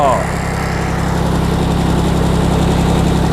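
A Yanmar F14D tractor, a Japanese import, idles with a loud, steady, close diesel throb and an even rhythmic pulse, alone without talk.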